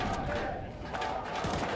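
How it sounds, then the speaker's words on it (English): Arena crowd at a Counter-Strike esports grand final between ENCE and fnatic in Prague shouting and cheering in a dense, continuous roar with brief surges. "Those cheers, they need to be there for the side of ENCE,"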